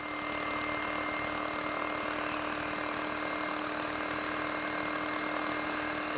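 A drill bores a hole into concrete for a lift anchor, a loud, continuous grinding roar with a steady high whine that runs unbroken throughout, close by with no talk.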